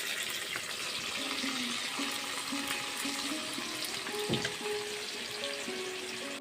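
Chopped onions frying in a pan while cooking a jackfruit curry, a steady close sizzle and crackle running throughout with a faint tonal hum beneath and a brief clatter near the end.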